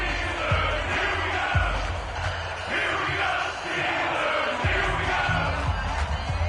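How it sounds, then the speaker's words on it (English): Football video game crowd cheering in the fourth quarter ahead of a big third down, a dense, steady roar of massed voices with bellows and whoops swelling throughout. "the crowd getting into it as we come up on a big 3rd down"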